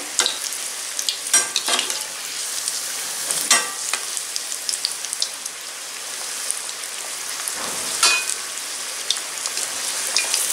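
Scotch eggs frying in oil on a medium flame, a continuous crackling sizzle broken by several sharper spatters and clatters as the balls are turned, close and fairly loud.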